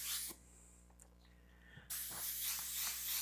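An airbrush sprays paint in short hissing bursts that start and stop abruptly, with a pause between bursts, heard alone and close.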